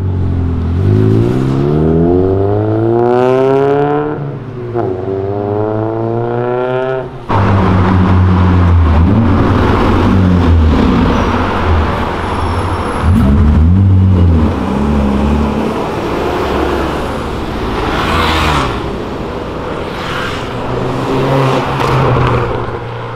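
A Ferrari revs hard close by, its engine climbing in repeated loud sweeps with brief drops between, followed by a rougher, sustained roar and further throttle blips.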